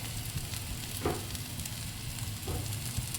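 Crab masala spice mix hits a hot pan and sizzles softly and steadily, with a couple of faint clinks of stirring over the continuous frying hiss.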